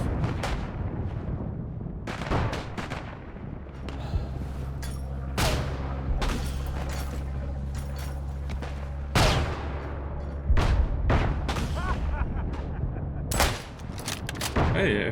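Artillery fire and explosions in the WWI game Isonzo, on the snowy Marmolada mountain map in a full 48-player match, boom repeatedly in loud, irregular blasts and crackling volleys, with voices now and then among them.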